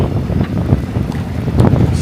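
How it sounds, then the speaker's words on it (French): Crosswind buffets a sailboat entering the gulf near Port Navalo, loud blustery rumbling wind noise on the microphone with churning water beneath, continuous and close. "le vent de travers, voilà ça bouge"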